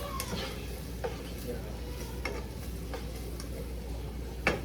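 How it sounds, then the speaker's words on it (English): Rice is stirred in a cooking pot while food sizzles steadily underneath, with a few brief scrapes and knocks of the spoon against the pot spread across the clip; no one speaks. "So what you're going to do is start stirring it."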